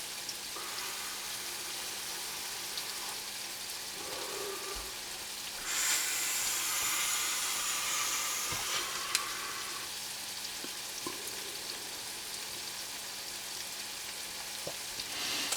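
Scallops with onions sizzle in a pan for creamed scallops, a steady close crackle of frying that briefly swells louder midway, with occasional soft clinks from stirring.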